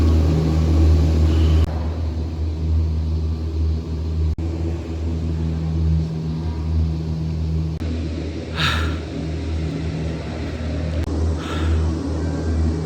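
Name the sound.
cable car ride down Wudang mountain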